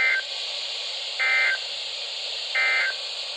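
A phone emits repeated severe weather alert beeps, three evenly spaced short tones over a steady hiss of background noise, with no talking.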